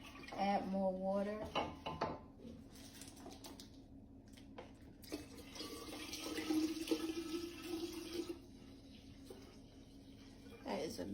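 Water runs and splashes into a jug holding lemons, in bursts of pouring and gurgling with quieter gaps, fairly close and soft.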